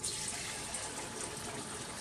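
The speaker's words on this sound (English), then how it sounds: "I'm just going to pour some broth into that" Chicken broth poured from a pot into a kitchen oil separator, a steady continuous liquid splash and trickle that fills the short moment alone, without talk.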